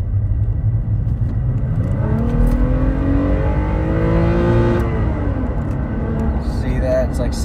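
Tuned third-generation Toyota Tacoma accelerating in first gear up to a raised rev limiter near 7,000 rpm, engine note rising steadily to a peak, then dropping off as the throttle lifts, heard from inside the cab under steady road noise.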